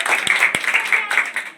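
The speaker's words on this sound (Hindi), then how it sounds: "और तुम लोग कोई ताली नहीं रहे?" An audience at a school farewell ceremony in India claps, a brief dense patter of many hands with a couple of sharper nearby claps, loud and close.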